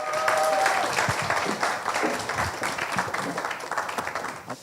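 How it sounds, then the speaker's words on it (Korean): An audience applauds to welcome an author at a book-launch concert with lecture and live music, a dense steady clapping that holds for several seconds and then tapers slightly, with no talk over it. "다시 한번 황병일 작가님께 큰 박수로 환영해 주시기 바랍니다."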